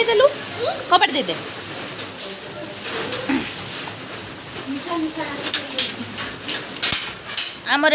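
Heavy rain pours outside a home, a steady wash of drops with sharper spatters on surfaces, while people talk and call out over it.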